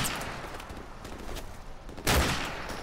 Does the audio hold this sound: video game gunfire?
yes